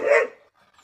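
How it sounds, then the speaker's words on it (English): A dog barks in a short, loud burst close by inside a workshop where a pool table is being restored, the sharp bark fading quickly to quiet. "Gwenny, stop barking, please."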